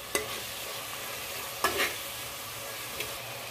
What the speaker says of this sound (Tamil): தக்காளி நல்லா மசிகிற அளவுக்கு நல்லா வணக்கிக்கலாம்